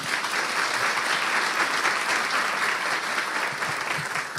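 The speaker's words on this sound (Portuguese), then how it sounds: "Pode dar uma salva de palmas para ela." Steady applause from an audience at a Portuguese-language talk event, dense continuous clapping that fills the whole stretch at an even, fairly loud level with no voices over it.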